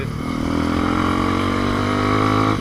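Engine of a Bashan 200 motorcycle being ridden under throttle, a close, steady buzzing drone that holds and climbs slightly for a couple of seconds before easing off.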